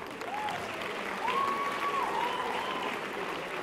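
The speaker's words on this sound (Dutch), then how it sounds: "Mag ik een heel groot applaus en bloemen" Steady audience applause at a music awards ceremony, a dense wash of clapping from a large crowd that holds evenly for the whole stretch, with a faint whistle rising over it partway through.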